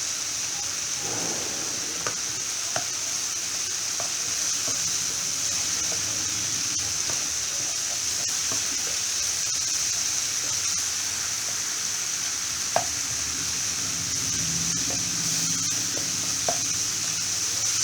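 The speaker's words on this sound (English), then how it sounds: "So give this a good fry." Red garlic chutney for pav bhaji frying in a pan gives a steady, bright, hissing sizzle throughout, with occasional faint clicks of a utensil, close and continuous, no voices.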